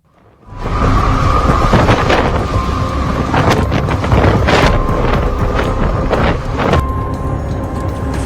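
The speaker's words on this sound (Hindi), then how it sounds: "यागी तूफान ने मचाया हाहाकार।" Typhoon Yagi roars across Vietnam in a loud, unbroken storm wind with rushing gusts and buffeting blasts, heard close and alone without any voices.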